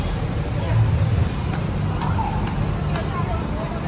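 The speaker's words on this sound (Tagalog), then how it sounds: "Medyo traffic po ngayon dito sa kahabaan ng Governor Pascual Street." Road traffic on Governor Pascual Street rumbles as a steady low, moderately loud drone, with indistinct voices faintly mixed in.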